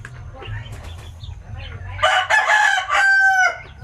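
Native chickens cluck softly, then a rooster crows loudly nearby in a long drawn-out call, with another crow following close behind.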